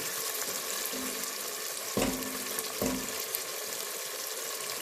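Fresh green beans crackle in a pan as tomato paste goes in, a soft continuous sizzle with two brief clinks of a spoon against the pan partway through.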